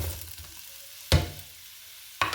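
Three sliced onions frying in hot oil in a pan for biryani, a soft steady sizzle broken by two sharp clatters of a spoon or spatula stirring against the pan.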